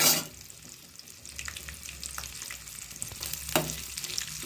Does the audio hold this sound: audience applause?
no